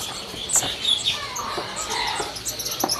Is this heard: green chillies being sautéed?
no